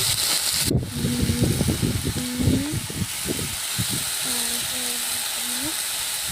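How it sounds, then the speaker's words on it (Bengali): Chopped garlic, black cumin and chili sizzle and hiss in hot oil in a pan, with stirring clatter and scraping over a steady crackle, while a voice hums or talks softly throughout. "রসুন কুচি, কালো জিরে, লঙ্কা দিয়ে ভালো করে ভেজে ভেজে নেড়ে চেড়ে"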